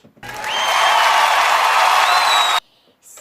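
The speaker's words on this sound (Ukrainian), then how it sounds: "Аплодисменти в студію." Studio-style applause sound effect, a dense burst of clapping and crowd noise that starts abruptly, holds loud and steady for over two seconds, then cuts off sharply.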